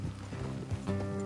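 Horse hooves clip-clop briefly at close range, with a soft snort or whinny mixed in; short and fairly quiet. From the video game Red Dead Redemption 2.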